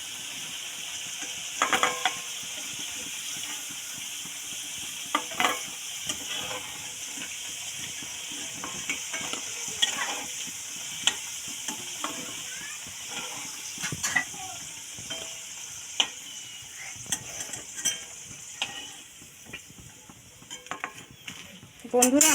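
Potatoes fry in hot oil with a continuous close sizzle, punctuated by irregular scraping clicks and clatters as they are stirred in the pan.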